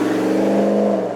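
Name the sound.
Ram 1500 Rebel GT Hemi sports exhaust revving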